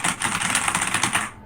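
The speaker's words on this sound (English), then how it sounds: "my keyboard sounds like this" A computer keyboard is typed on quickly in a brief close burst of dense, rapid key clicks and clacks with no talking.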